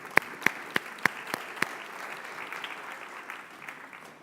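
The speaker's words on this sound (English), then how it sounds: "Let's give them a round of applause." Audience applause at a community college district fall convocation, a burst of clapping with a few sharp claps standing out early, then settling into a steady, moderately loud patter across the hall.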